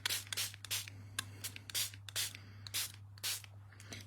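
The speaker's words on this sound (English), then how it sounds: "And I'm just going to spritz this side now." Short bursts from a hand spray bottle spritzing a stencil during a Halloween frog craft, about nine quick hissing puffs in an uneven rhythm, close and clear over a steady low hum.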